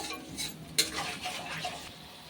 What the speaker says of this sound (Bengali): এবার লবণ হলুদ দিয়ে মশলাটা একটু ভালো করে কষে নেবো